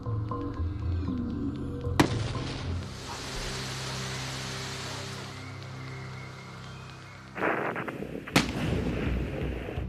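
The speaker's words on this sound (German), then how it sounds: "Sie können explodieren." A balloon filled with hydrogen and oxygen detonates with a sharp, loud bang, followed by a rumbling roar and a second burst with sharp crack near the end.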